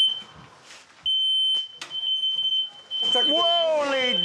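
A smoke alarm sounds a shrill, high-pitched continuous tone that starts abruptly and holds loud and close, while people talk and exclaim over it, their voices briefly dominating before the alarm carries on.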